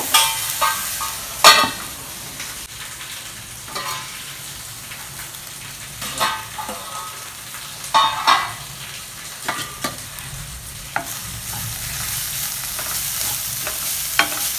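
Bitter gourd spread in a pan cooks slowly over a low flame, giving a steady soft sizzle broken by occasional scraping stirs of a spatula, close and moderately loud with no talk.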